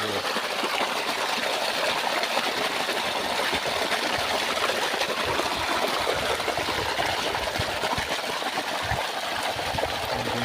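Water runs through an earthen irrigation channel into a brinjal field, a steady close rushing, trickling flow that stays constant with no voices.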